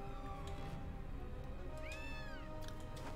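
A cat meows in the video game Gravity Rush Remastered, one short rising-and-falling call midway through, set against a busy, constant game soundtrack.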